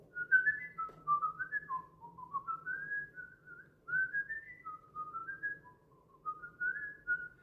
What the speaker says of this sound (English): That's a whistle song from Police Academy.